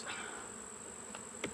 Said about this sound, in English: Knock them bees off of there, because I want them to stay with the box.